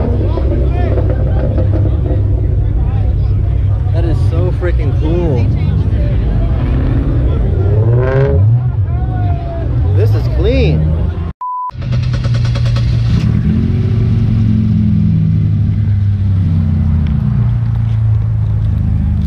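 A Chevrolet Camaro's engine revs and rumbles at a busy car meet, with rising and falling pitch sweeps, running continuously beneath loud crowd chatter and nearby voices.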